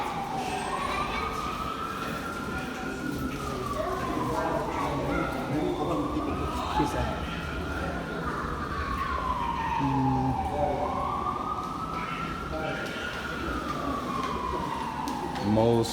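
An emergency vehicle siren wails in slow rising and falling sweeps on a New York City street near Grand Central Terminal, moderately distant over city traffic noise, with a voice talking underneath.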